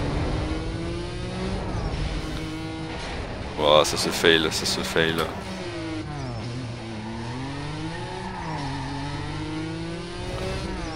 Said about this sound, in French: on va laisser quand même le moteur rugir